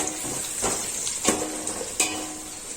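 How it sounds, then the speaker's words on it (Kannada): Green chilies, onion, ginger and garlic frying in hot oil for chicken sambar, a bright continuous sizzle broken by a few scraping stirs of a spoon in the pan, close and with no voices. "ಶುಂಠಿ, ಬೆಳ್ಳುಳ್ಳಿ ಮತ್ತೆ ಈರುಳ್ಳಿ ಎಲ್ಲ ಚೆನ್ನಾಗಿ ಫ್ರೈ ಆಗಲಿ."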